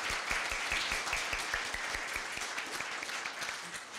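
A seated audience at a Korea University evening event applauds on request, giving steady, moderately loud clapping that continues evenly and tapers slightly toward the end.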